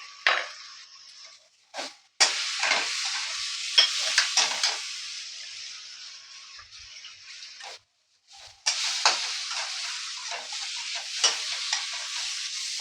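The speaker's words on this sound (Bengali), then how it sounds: "ভালো করে মশলাটা ভাজা হয়ে যাবে" Egg curry spice paste with tomato, salt and cumin powder frying in a pan, loud bursts of sizzling hiss that drop out briefly and return, with occasional stirring.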